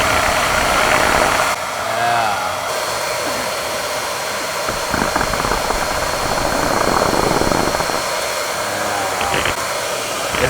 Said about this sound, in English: Sitting here by my bike, heating it up.